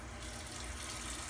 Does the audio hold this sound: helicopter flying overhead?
no